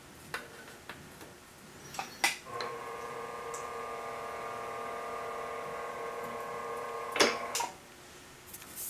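An Eastwood bead roller runs with its foot pedal pressed to the floor, giving off a steady droning motor whine for several seconds. A few sharp metallic clicks and clanks come before and after the run in an otherwise quiet shop.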